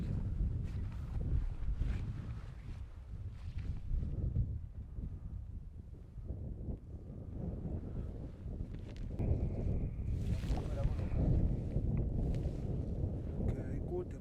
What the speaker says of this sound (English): The wind's not too good.